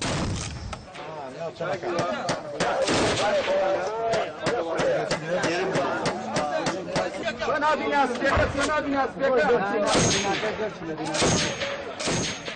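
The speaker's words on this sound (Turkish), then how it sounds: "Yoğun çatışma sesleri duyuluyor." Intense gunfire and artillery from fighting in Kobani: sharp shots and heavy blasts crack out irregularly at a distance, layered over a continuous background of voices and commotion.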